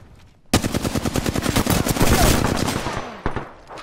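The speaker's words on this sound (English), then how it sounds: "Shots fired. They're hitting me." Automatic gunfire in the video game Apex Legends, a loud close rapid burst that starts abruptly, runs about three seconds and tails off with a last shot.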